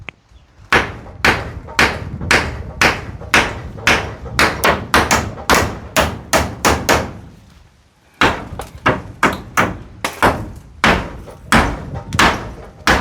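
Hammer blows ring out during construction of a kitchen extension, dozens of sharp close strikes in quick irregular bursts, with a short pause midway before the pounding resumes.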